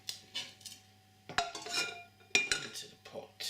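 Whole garlic cloves drop into a metal pot in a home kitchen while making pumpkin soup, giving a few sharp, close clinks and clatters spread across a few seconds, with a faint steady hum underneath.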